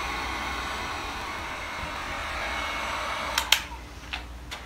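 A heat gun warming a laminated vinyl cornhole board wrap gives a steady, close airy hiss throughout, with a few brief clicks and knocks near the end.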